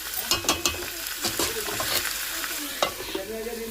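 Chicken frying dry for a kosha curry, with a loud sizzle and sharp, repeated clinks of a spatula stirring against the pan. The clinks are close and come in quick bursts over a steady fry.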